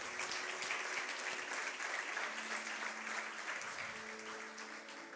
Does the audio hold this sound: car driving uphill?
no